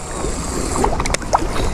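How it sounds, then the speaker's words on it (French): Strong, continuous wind gusts buffet the microphone beside a pond on grey, stormy weather, a loud roaring rush with a few brief knocks. "il y a énormément de rafales de vent"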